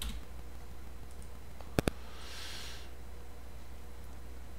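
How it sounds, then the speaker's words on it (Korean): A computer mouse gives two quick sharp clicks in a quiet room, faint background hiss around them, no talk. "클릭."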